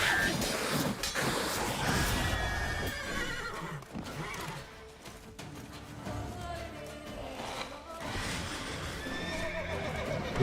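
Roach, Geralt's horse in The Witcher 3: Wild Hunt, whinnies and neighs loudly with a few hoof clops, set against wind and surf-like ambient noise.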